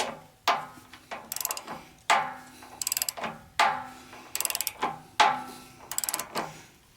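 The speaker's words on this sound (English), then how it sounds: "I'm going to try tightening the remaining bolts up in the hopes that it will pull." A ratchet wrench tightens bolts on the deck of a Wood-Mizer sawmill, with sharp metallic clanks followed by quick bursts of rapid clicking, repeated in a steady cycle about every second and a half, close and alone.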